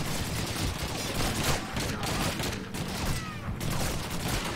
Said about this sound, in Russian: на меня стреляют